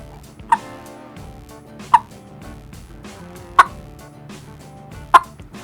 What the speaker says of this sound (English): Here it is on one of our Hook Hunter series calls.